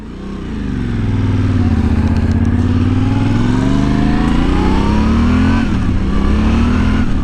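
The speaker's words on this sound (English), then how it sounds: "Oh, listen to that twin cylinder." Yamaha Tenere 700 twin-cylinder motorcycle engine revving up loud and close, a steady rising and falling drone that builds, holds through several throttle swells, dips briefly, then climbs again.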